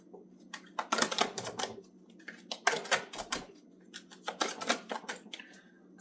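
Tarot cards being shuffled by hand come in quick, crisp bursts of riffling clicks separated by short pauses, close and fairly quiet over a faint steady hum.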